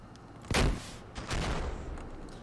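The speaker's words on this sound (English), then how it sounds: "The rocket flying in." An AC-130 rocket in a Modern Warfare mod video game, striking with a sharp loud blast followed by a second rumbling explosion and fading debris noise, close and forceful.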